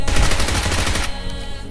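Rapid automatic gunfire in the battle-royale shooter BGMI, a loud dense burst of shots for about a second that then drops back to a quieter, ringing game soundscape with no talk.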